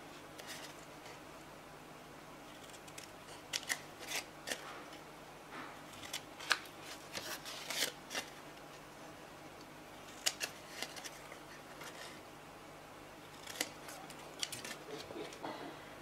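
Scissors snip small leather triangles for a steampunk leather album: faint, scattered, crisp cuts in short irregular bursts, close but quiet, with no voice over them.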